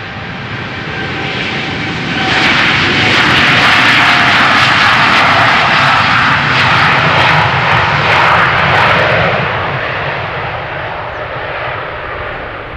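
A Boeing 787 Dreamliner takes off from runway 36L at Amsterdam Schiphol, bound for Chicago O'Hare. Its loud, broad jet roar swells after a couple of seconds, holds steady, then slowly fades as the aircraft climbs away.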